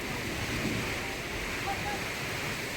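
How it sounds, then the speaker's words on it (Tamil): A strong gale of swirling wind roars in a steady, broadband rush, buffeting the microphone throughout with a dense hiss and low rumble and no clear gaps. "தாறுமாறாக அடித்த சூறை காற்று."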